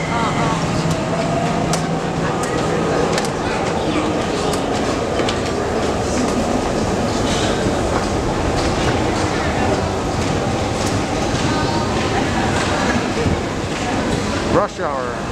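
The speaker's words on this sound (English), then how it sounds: "Beijing Subway Station." A train rumbles through a Beijing subway station, a steady loud roar with rattling wheels that holds for the whole stretch before a short knock near the end.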